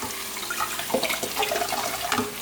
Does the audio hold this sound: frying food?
no